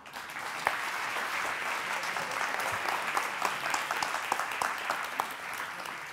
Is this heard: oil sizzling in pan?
no